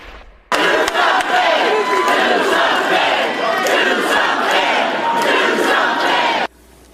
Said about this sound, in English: Take this crowd here at a vigil in Dayton last night, shouting down the Republican governor and telling him to just do something.